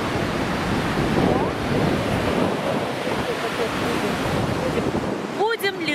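Steady wind buffeting the microphone over the wash of sea waves on a beach, loud and continuous throughout, with a brief voice near the end.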